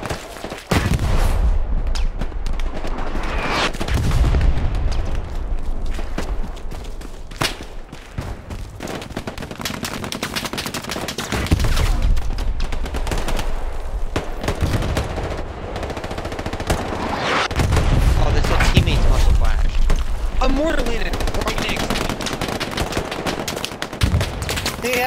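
Heavy gunfire and mortar shell explosions on a Hell Let Loose battlefield, with sustained loud machine-gun bursts and repeated deep booms rolling through the whole stretch, no one speaking.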